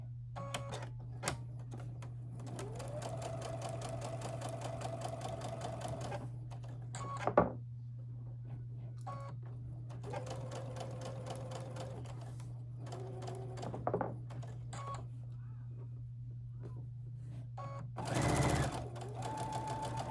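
A sewing machine stitching seams on a quilt block for an Irish Chain pattern, whirring in several bursts separated by short pauses, close up over a steady low electrical hum.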